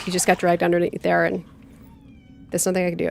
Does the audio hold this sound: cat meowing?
yes